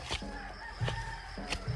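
Several short, nasal calls from nearby birds in a quick irregular series, like ducks quacking, over a low steady background hum.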